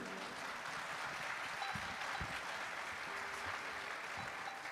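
An audience claps steadily for a Tunisian women's music band at an international music festival concert. The applause is dense and sustained, heard from within the crowd, with no talking.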